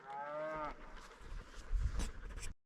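A cow among ranch cattle lets out one long, deep moo up close, followed by shuffling and low rumbling movement before the sound cuts off.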